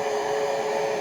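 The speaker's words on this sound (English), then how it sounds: "I'm just going to get my heat gun here." A heat gun drying paint on a craft project gives a loud, steady whirring blow with a constant droning hum, continuous and close, with no talking.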